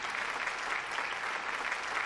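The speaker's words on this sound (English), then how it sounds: "I don't know if I like these claps." Canned clapping sound effect played through podcast studio equipment, a steady, even burst of applause at moderate level that runs for a couple of seconds with an abrupt start and no fade.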